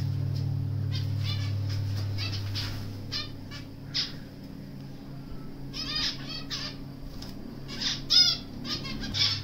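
Birds on a rooftop flap their wings in several quick fluttering bursts, some close and some farther off, over a steady low background hum with no talking.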